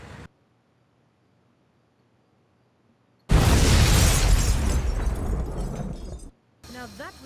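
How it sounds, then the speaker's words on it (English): After a near-silent pause, a loud explosion destroying a bridge in the video game Air Conflicts: Secret Wars erupts with a deep booming roar and crackling debris that rumbles for about three seconds before cutting off. "Now that was an explosion."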